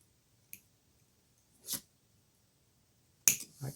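Pliers snip jewelry wire while a boho bracelet is made: a few sharp, close clicks spaced apart, the last two quicker and louder, in an otherwise quiet room.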